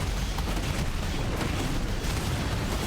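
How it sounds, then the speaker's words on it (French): A dense, continuous roaring blast fills the space, a loud, sustained explosion rumble with deep low-end and no voices, from the Titan boss fight in the video game Final Fantasy XVI. "La grosse explosion."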